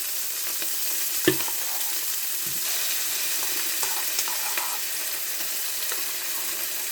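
Ginger and garlic frying with onion and green chilli in a pan for South Indian boti curry give a loud, steady sizzle broken by a couple of sharp utensil knocks and occasional stirring scrapes, with no talking.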